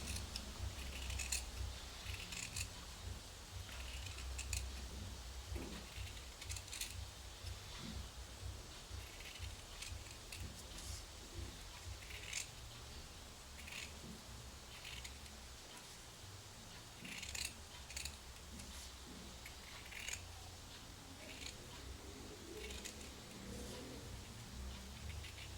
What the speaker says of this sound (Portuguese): Colo o EVA e depois eu só venho cortando, já deixando essa margem